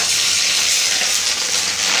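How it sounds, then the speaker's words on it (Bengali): Mashed fish roe fries and is stirred in a pan, giving a loud, close, unbroken sizzling hiss. "ডিমগুলো যাতে ভালো করে ভাজা হয়"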